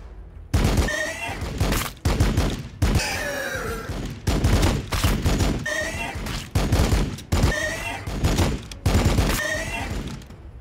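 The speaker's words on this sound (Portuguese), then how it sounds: "Vamos meter tiro aqui." Heavy gunfire from a Warhammer 40k Battlesector battle, loud repeated volleys in regular bursts separated by brief pauses, filling the whole stretch without talk over it.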